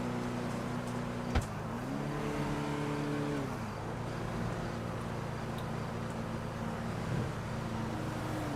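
A car drives along with a steady, close engine drone that rises and shifts in pitch as it accelerates through the gears, the hum continuing without talk.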